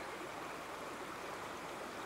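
River water flows steadily past a submerged pipe end in winter, a soft continuous burble with no voices.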